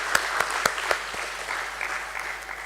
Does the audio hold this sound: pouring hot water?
no